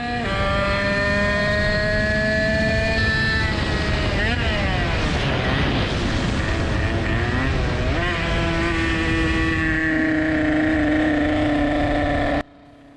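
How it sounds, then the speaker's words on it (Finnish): A heavily tuned 20-horsepower moped engine runs hard and continuously during a reliability test ride, its buzzing harmonics sweeping up and down with throttle changes before cutting off abruptly near the end, with a loose-sounding exhaust pipe rattling. "kuulosti niin kuin pakoputki olisi lähtenyt irti."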